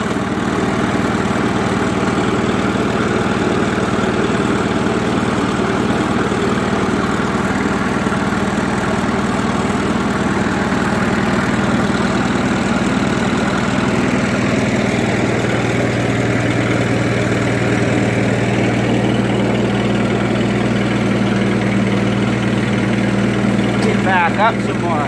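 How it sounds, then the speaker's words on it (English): A 1951 Ferguson TE 20 tractor engine idles steadily with a low, even rumble through the whole stretch, its pitch dipping slightly partway through, while people talk nearby. "This tractor's a 1951."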